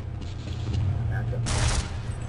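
Gunfire in the video game Half-Life: a short, loud, broadband burst of shots over a steady low rumble, with a brief muffled voice nearby.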